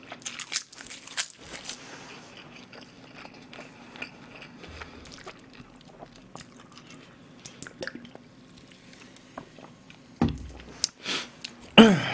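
Crisp, sporadic crunching bites of a fried pork loin cutlet, close and fairly faint, with quiet gaps between chews and a few louder crunches near the end.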